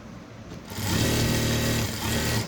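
A sewing machine stitches a blouse lining to jacket fabric, a close motor whir that ramps up, runs steadily for about a second and a half, then slows and stops.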